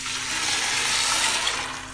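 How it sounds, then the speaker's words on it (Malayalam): Boiled water pours into a pot of rice frying in ghee for dum ghee rice, a steady, loud rushing splash that holds for the whole moment with no voices. "ഞാൻ ഇവിടെ തിളപ്പിച്ച് വെച്ച വെള്ളം കൂടി ഇതിലേക്ക് ഒഴിച്ചിട്ട്"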